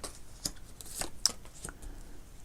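Tarot cards laid down and covered on a table during a love reading, a few soft papery slaps and shuffles spaced out at close range against a quiet background, with no talking.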